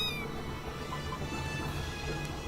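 Blinking cat eyes in the video game Crossing Souls give off a steady, droning cat-like tone alongside game ambience, sustained and even throughout.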